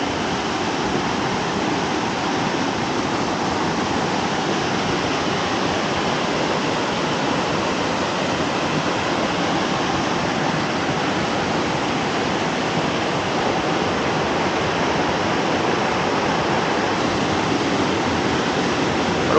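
Cannon Creek on the Foothills Trail rushes in a steady, loud, unbroken wash of flowing water, close by and constant throughout with no voices.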